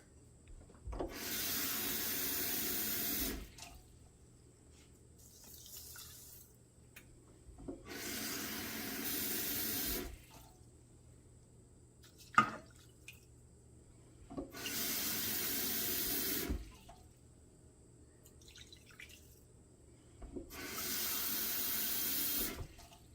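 Tap water runs into a container in four separate bursts of a few seconds each, about 4.5 cups for cooking rice, with quiet pauses and small clinks between them.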